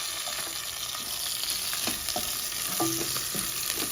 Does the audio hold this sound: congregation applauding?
no